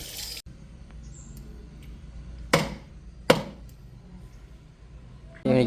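Country chicken being chopped into pieces with a knife in a village kitchen: two sharp, loud chops a moment apart amid quiet background, with a couple of brief scraping clatters at the start and end.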